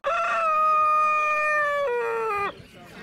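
A Brahma rooster crows at an autumn small-animal market in Monor, Hungary: one loud, close, drawn-out crow that stays steady, then drops in pitch near the end and cuts off abruptly.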